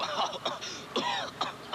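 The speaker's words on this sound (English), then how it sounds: "that's a terrible cough" A few harsh, raspy coughs or throat-clearing bursts in quick succession, close and fairly loud, with no talking.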